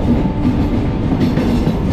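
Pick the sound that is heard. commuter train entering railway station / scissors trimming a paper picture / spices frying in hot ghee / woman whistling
commuter train entering railway station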